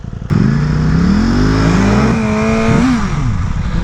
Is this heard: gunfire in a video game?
no